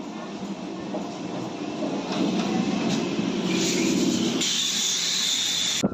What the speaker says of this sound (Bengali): আমি এখন রেলওয়ে স্টেশনের পাঁচ নম্বর প্ল্যাটফর্মে পৌঁছে গেছি